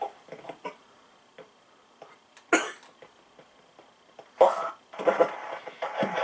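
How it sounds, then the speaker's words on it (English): Harsh, hard coughing comes in scattered bursts, two heavy fits standing out near and loud among quieter intermittent rasps and coughs, with little speech. "I've never seen you cough that hard before."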